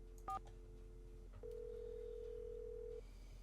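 In a Nancy Drew video game, a phone call goes through: a quick pair of dialing beeps, then a single long, steady ring tone that stops unanswered, clean and quiet.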